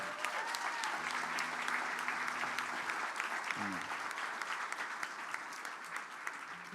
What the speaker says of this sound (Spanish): Un aplauso para Mirko también, que se va a bautizar.